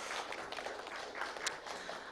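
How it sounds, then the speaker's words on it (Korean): Light, faint applause from a small seminar audience after a research presentation on occupational cancer, a thin patter of scattered claps that stays soft throughout. "김창렬 교수님께 다시 한번 감사의 박수 부탁드립니다"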